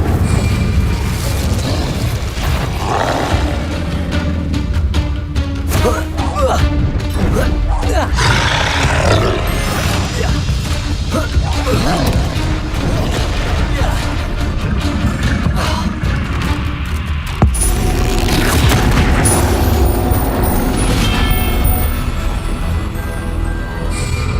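Repeated Incendio fire spell casts in Hogwarts Legacy, with loud roaring whooshes and booms of flame bursting throughout and a voice calling out between casts.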